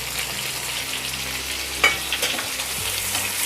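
Paneer and capsicum fry in a pan over a high flame, giving a steady, close sizzle throughout with a brief clatter of stirring partway through.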